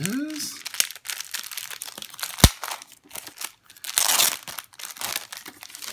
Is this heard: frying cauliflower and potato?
no